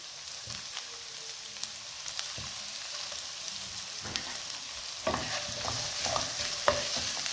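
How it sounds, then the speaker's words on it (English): Chopped onions tipped into a hot pan for fried rice, then frying with a steady sizzle while a spoon or spatula scrapes and stirs, with a few sharper clatters toward the end. "Now add the chopped onions, here they go."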